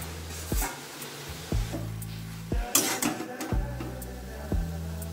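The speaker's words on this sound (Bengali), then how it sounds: "এবার ঢাকনাটা তুলছি।" A metal lid is lifted off a cooking pan of red amaranth greens, with several short knocks and clanks of metal over a steady background hiss and low hum.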